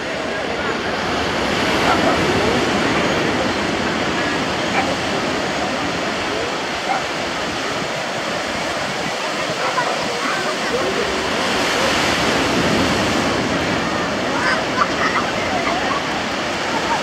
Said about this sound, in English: Things are getting ready as some waves coming in here